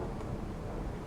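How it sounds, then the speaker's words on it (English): Steady rain with a low rumble of thunder in the Zafehouse Diaries 2 game, a constant dense wash of rainfall with deep rolling undertones, fairly quiet and even with no voices. "It's raining."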